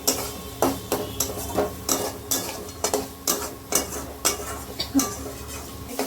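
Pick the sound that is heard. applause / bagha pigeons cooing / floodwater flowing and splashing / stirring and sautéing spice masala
stirring and sautéing spice masala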